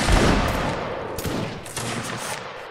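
A volley of Napoleonic-era muskets fired on command in a Mount and Blade Warband line battle, a loud near crack followed by ragged echoing shots rolling out over a second or so, then fading into a scattered tail.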